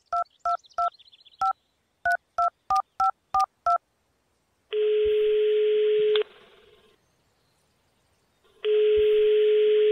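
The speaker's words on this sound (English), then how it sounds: "I'll call him on his cell phone." A cell phone number is tapped out as a quick run of DTMF keypad tones, followed by long, loud ringback-style tones in the video game Runaway 3: A Twist of Fate.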